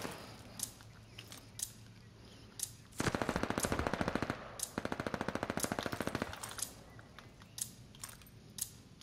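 Rapid automatic gunfire rattles in a bomb-planting tactical video game, two long, fairly faint bursts in the middle with scattered single shots before and after.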